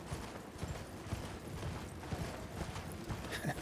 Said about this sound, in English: if I ride my horse through all these bats, through bat country, I'll probably be okay